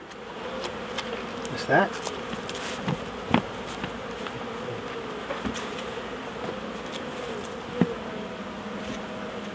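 Honeybees buzz steadily while hives are being united, a dense, constant hum close by with a few faint knocks and bumps.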